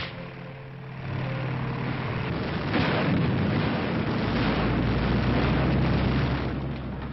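Tank guns firing: a heavy boom swells after a second into a sustained, loud rumbling roar with a sharper blast near the middle, filling the rest of the stretch without any voices.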